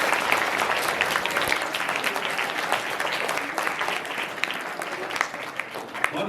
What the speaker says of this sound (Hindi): तो जोरदार तालियां बजाइए फिर अपने लिए